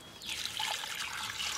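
Water pours steadily into a cooking pot holding cassava and salt for a village breakfast, a close, soft continuous splashing stream.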